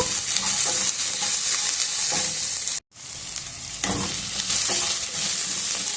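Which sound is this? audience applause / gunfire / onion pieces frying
onion pieces frying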